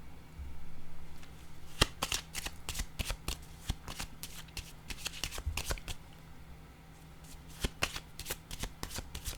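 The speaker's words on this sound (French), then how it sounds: "Je vais piger une autre carte" A deck of cards shuffled by hand and a card drawn, heard as rapid riffling bursts and sharp flicks in irregular clusters, close and fairly quiet.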